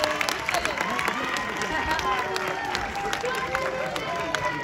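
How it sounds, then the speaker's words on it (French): At a tournament final in Le Perreux between AS Lieusaint and Villetaneuse, a crowd claps and applauds the two finalists in a steady, dense patter of hands with some crowd noise mixed in. "On peut applaudir les deux finalistes, s'il vous plaît."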